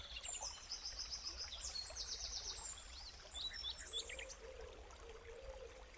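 Birds sing in the open beside a waterfall, quick high chirps and trills in the first few seconds over a constant rushing water hiss, then fading to the steady flow.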